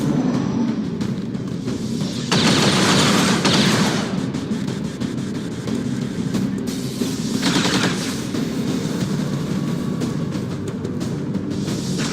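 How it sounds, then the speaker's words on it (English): Suppressing fire in the turn-based tactics game XCOM 2: sustained, loud automatic gunfire that rattles on continuously, swelling into denser bursts and then settling into a steady, heavy barrage. "Suppressing fire on target."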